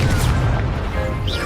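A Confringo spell explosion in the video game Hogwarts Legacy: a dense, booming low-frequency burst that fills the whole moment, loud and close, with no talk over it.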